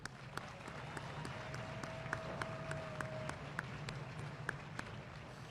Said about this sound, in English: Please join me in a round of applause for this great band.